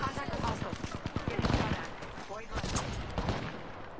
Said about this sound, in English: I'm so confused on where they're shooting me from.